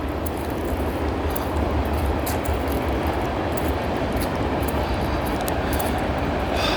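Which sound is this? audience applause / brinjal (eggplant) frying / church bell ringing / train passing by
train passing by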